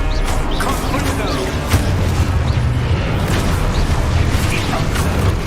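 A Confringo blasting spell goes off in Hogwarts Legacy, making a dense, booming explosion with crashing debris and crackling bursts against constant, busy combat noise.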